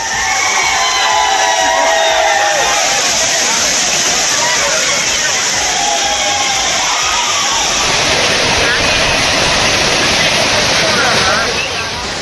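A waterfall roars loud and steady as tourists bathing beneath it cheer, shout and sing, their excited crowd voices layered over the constant rushing water nearby.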